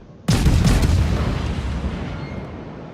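A single heavy warship gun salvo in a naval battle video game, fired at an enemy Bayern battleship: a sudden loud boom followed by a long rumbling decay.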